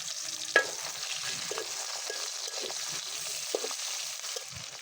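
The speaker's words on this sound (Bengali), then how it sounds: "মরিচ পেঁয়াজটা আমি একটু ভেজে নেব" Chopped chillies and onions sizzle in oil in a wok, a soft steady hiss broken by a few scraping stirs and a sharp clink near the start.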